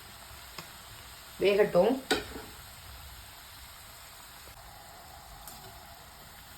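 Ragi murukku dough fries in hot oil with a faint, steady sizzle and bubbling throughout, while a voice speaks briefly near the start over the frying.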